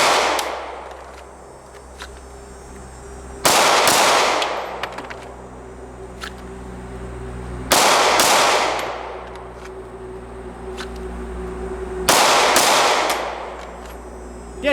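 Pistol shots from a Smith & Wesson M&P 2.0 Compact handgun at an outdoor range, three loud, sharp reports spaced a few seconds apart, each trailing off into a lingering ringing decay.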